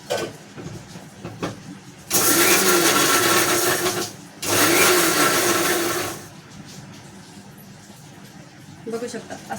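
A mixer grinder whirs loudly in two short bursts of about two seconds each, coarsely grinding without water, separated by a brief pause, with people talking quietly before and after.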